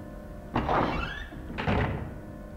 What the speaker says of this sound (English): Slid the picture card into the slot.